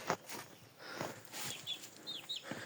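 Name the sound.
Japanese quails in their coop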